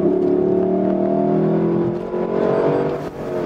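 A Lexus LC 500 convertible engine hums smoothly and steadily at low revs, close and continuous, with a deep even drone and slight variations in pitch.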